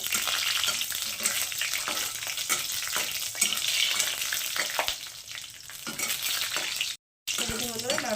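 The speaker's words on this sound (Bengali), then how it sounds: "নারকলটাকে আমি তেলের মধ্যে দিয়ে দেবো একটা একটু হালকা ভেজে নেব সুন্দর গন্ধ বেরোনো পর্যন্ত" Chopped coconut fries in mustard oil with a dense, steady sizzle while it is stirred, the sound cutting out briefly for a moment near the end.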